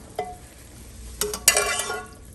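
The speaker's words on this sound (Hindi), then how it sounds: "और अब ये इसी ऑयल में जो है मैं जो प्याज हैं उनको फ्राई कर लूँगी।" Onions frying in oil for a karela gosht dish of bitter gourd and meat: a low sizzle with a soft scrape early on, then two louder bursts of crackling near the end as the pan is stirred.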